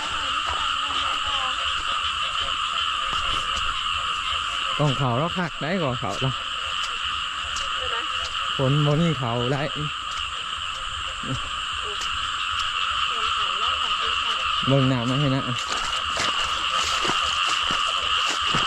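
Steady, loud chorus of croaking frogs in rice paddies after heavy rain fills the background while someone speaks in short bursts over it.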